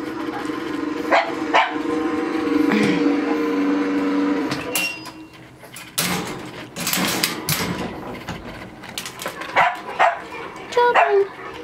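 A French bulldog puppy in a nursery gives a few scattered, sharp yips and barks at close range, mixed in with a person's talking.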